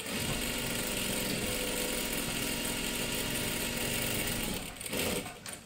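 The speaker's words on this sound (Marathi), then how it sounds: "आता सुईच्या बाजूने काय करायचं आहे, इथे एकदम कडेकडेला शिलाई मारत मारत घ्यायचं आहे." A sewing machine runs steadily at close range while stitching right along the bottom edge of a salwar, a continuous mechanical whir that carries on for several seconds and briefly falters near the end, with no talking.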